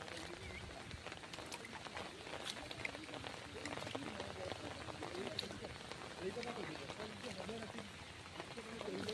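Rain falls steadily during a fishing outing, a constant soft hiss of drops hitting the ground and water, faint and even throughout with no clear breaks.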